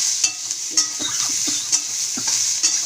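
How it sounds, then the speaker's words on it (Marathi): Fresh pigeon pea beans and coconut roast in a little oil, a steady close sizzle broken by a run of light, regular scrapes and taps from a stirring spoon. "आपण तुरीचे दाणे ते पण भाजायला टाकायचे याच्याबरोबर खोबऱ्याबरोबर"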